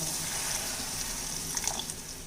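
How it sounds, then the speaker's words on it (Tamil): Water runs steadily from a tap into a cooking pan of vegetables in a home kitchen, a continuous close, fairly loud splashing flow with a few brighter splashes near the end. "இப்போ கொஞ்சம் தண்ணி விட்டுக்கலாங்க"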